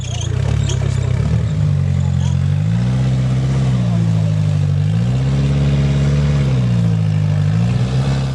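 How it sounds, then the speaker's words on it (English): A 4x4 vehicle's engine revs hard and wavers up and down as it struggles for traction while pulling away at an off-road challenge in Rustenburg, loud and close throughout. "He pulls away on his second attempt, struggling to gain traction."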